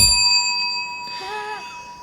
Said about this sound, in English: Also ring the bell.